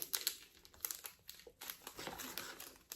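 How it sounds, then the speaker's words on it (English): A diamond painting drill pack is cut open, with quiet, close crinkling and rustling of thin plastic packaging, a string of small soft crackles and snips over a few seconds. "What I generally tend to do is I actually cut open the top of the pack"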